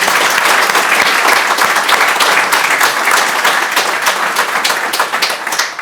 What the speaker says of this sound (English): I would ask for like a huge round of applause for Julius.